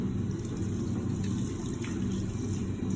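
Running water pours steadily over a cyanotype print, rinsing glue off it, making a constant close, full rushing wash with no voices.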